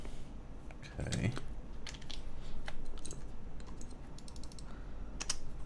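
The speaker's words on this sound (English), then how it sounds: "That's definitely a keyboard." Typing on a computer keyboard while a CannonKeys CK980C is being built: quiet, uneven clicks and taps of keys sit under faint talk, with one slightly louder crunchy burst early on.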